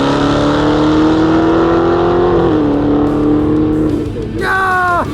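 A Dodge SRT Hellcat and a dual-motor Tesla Model Y drag racing: a loud, sustained engine roar that holds its pitch before shifting and falling away, followed by a sharp rising whine near the end, close and with talking over it.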